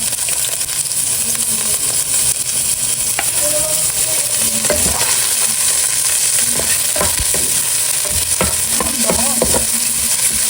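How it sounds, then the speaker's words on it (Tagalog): Ginger sautéing in a pan for a Filipino dish: a loud, continuous sizzle of frying fills the whole stretch, with occasional scrapes and clinks of stirring close by. "Akin na pong igigisa po itong ating mga ricado"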